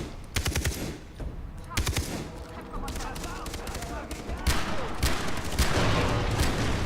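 Gunfire rattles through a Far Cry 3 co-op shootout with enemy snipers, mixing rapid automatic bursts and sharp single shots almost without pause, with loud, dense blasts throughout and people talking over the fighting.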